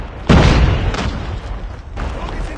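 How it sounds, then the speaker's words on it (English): A grenade bursts in Call of Duty Mobile with one sharp, loud boom followed by a rumbling decay, then a couple of lighter pops and thuds further off. "Grenade!"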